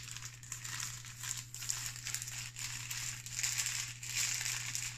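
An inflatable camp pillow is rolled up to force the air out, giving close, continuous crinkling and crumpling of plastic fabric with soft rushing air, over a steady low electrical hum.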